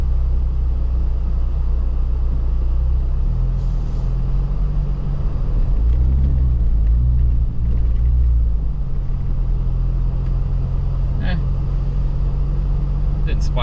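A pickup truck drives through creek water on an overlanding trail to wash off its tires and wheels, with a steady low engine rumble and churning that continue throughout at close range.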